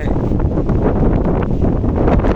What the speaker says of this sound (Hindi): हवा बहुत तेज़ है, आप लोगों को ज़रूर हवा का शोर महसूस हो ही रहा होगा।